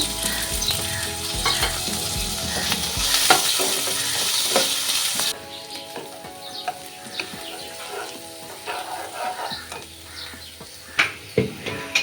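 Chopped onion tipped into hot mustard oil already holding garlic and dried red chilli, for a mixed vegetable dish with methi greens. A loud, bright sizzle flares, then drops to a softer crackle broken by spatula scrapes and pan knocks.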